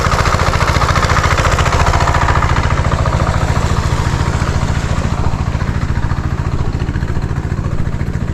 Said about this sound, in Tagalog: Ilakas natin ang konti makina natin.